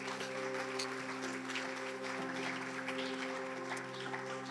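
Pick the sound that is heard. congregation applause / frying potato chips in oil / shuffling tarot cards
congregation applause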